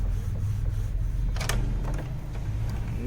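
An Epson L8050 printer prints a PVC card, giving a steady close mechanical whir and low rumble with a brief sharper clack midway as the card feeds.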